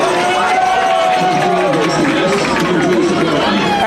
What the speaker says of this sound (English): the crowd chanting Luke as he makes the tackle of a lifetime